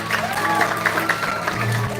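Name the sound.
audience applause at a drama performance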